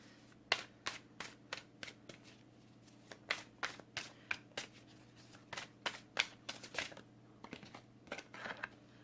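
Tarot cards riffled and shuffled by hand, a close, quiet run of crisp flapping bursts in an irregular rhythm, with no talking.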